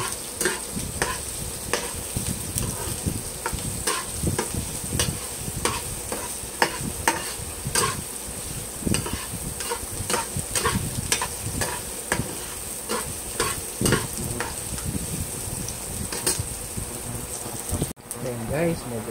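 Garlic stir-frying in a pan for a meatless sotanghon guisado, a steady close sizzle with repeated scraping stirs throughout, one brief gap near the end.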